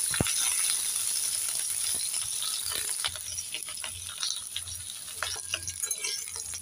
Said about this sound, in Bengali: আমি প্রথমে ঢেঁড়সগুলোকে ভেজে নেব।